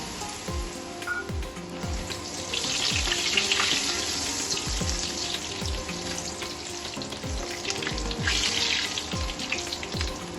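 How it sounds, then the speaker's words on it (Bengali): Long potato pieces fry in oil left over from frying fish, giving a steady close sizzle with a spatula stirring and scraping at regular intervals. "এবার মাছ ভাজার তেলেই 2টো আলু লম্বা লম্বা পিস করে আমি ভেজে নিই।"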